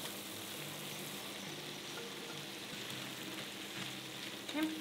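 Sausages sizzle steadily in a hot pan with chicken bouillon and black pepper, a dense, even frying hiss that continues without a break, close up, with a faint clink near the end.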